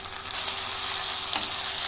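Potatoes frying in a pan as they are stirred, a steady close sizzle with a soft scrape partway through, no talking.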